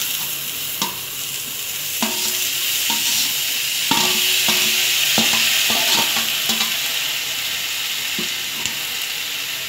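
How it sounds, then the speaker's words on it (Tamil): Chopped tomatoes and onions sizzle steadily in a pan for a radish sambar, with repeated scraping and tapping of a spoon stirring them, close and continuous with no talking. "நல்லா கிளறி விடுங்க, வதக்குங்க"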